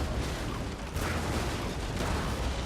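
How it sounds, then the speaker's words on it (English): Ship cannons firing in a Napoleon Total War naval battle, a dense continuous rumble of distant booming broadsides and explosions with no talking. "it does fire, but at a further target away, and this ship is probably going to have a nice explosion as well"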